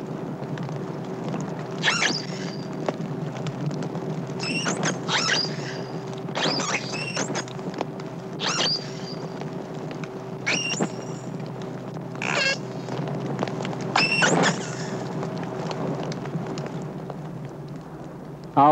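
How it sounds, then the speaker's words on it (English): A lone captive dolphin calling for her missing herd, with a series of whistles and chirping calls spaced every couple of seconds over a steady underwater hum. "Our unhappy dolphin provides us with a great variety of recordings of her voice."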